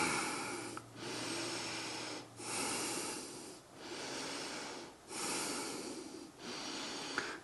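Heavy, steady breathing during a yoga cobra pose in a sun salutation flow, slow alternating inhales and exhales in a regular rhythm, close and breathy, with no talking.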